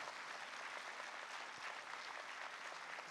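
A festival audience at the Loksatta LIT Fest 2025 applauds a dance performer with a dense, steady roar of clapping that holds evenly for several seconds, full and sustained with no voices standing out.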